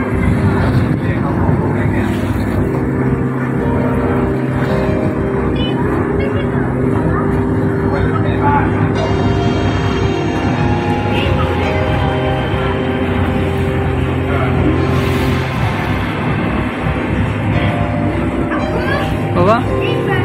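A motorboat engine drones steadily on a river at the Asiatique Riverfront pier, a loud, constant rumbling hum that runs throughout with wind buffeting the microphone and voices talking over it.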